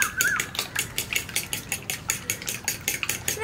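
Eggs being beaten in a bowl for an egg sandwich filling, a fast, even clatter of utensil against the bowl in quick repeated strokes, close and fairly loud.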